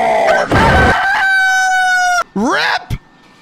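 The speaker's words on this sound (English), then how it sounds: "Bro turned into a rooster at the end!" A loud, close rooster crow from a meme rings out in a long drawn-out cock-a-doodle-doo, followed by a shorter rising squawk and a brief cluck.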